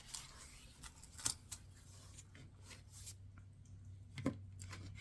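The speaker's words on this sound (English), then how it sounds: "And then you can just start taking off the pages" Pages are pulled and torn from an old book being upcycled, giving sparse, faint crisp rips and paper snaps at irregular intervals over a quiet room.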